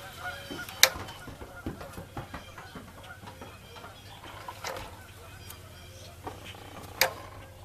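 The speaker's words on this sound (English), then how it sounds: "listen how beautiful them geese are." Geese honk repeatedly outdoors at moderate distance, with two sharper, louder calls standing out against a steady low rumble of background noise.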